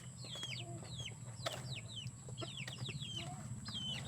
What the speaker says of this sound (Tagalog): Ayan sila guys, umiyak yung mga manok.